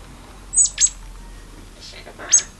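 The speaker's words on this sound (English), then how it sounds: "Yeah, I see the little bird." A small bird gives three short, high chirps with gaps between them, fairly close and clear over a faint background hum, with no one talking.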